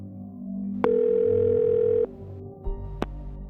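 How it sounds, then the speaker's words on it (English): A landline telephone being dialed: a steady dial tone lasts over a second, broken by sharp clicks, followed by a shorter tone, quiet and alone. "So, the Levys picked up the phone and dialed."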